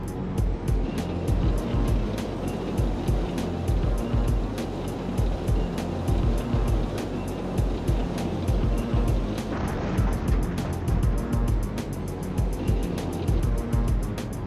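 A tank in a video game rolls down a steep hill, a loud, continuous low engine rumble with clanking tread noise that stays dense and even throughout.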